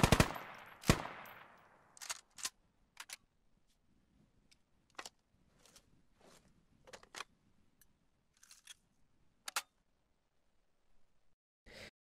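An M240B machine gun fires in the video game Squad, cracking in a quick opening burst, then scattered short shots and metallic handling clicks with quiet gaps between them.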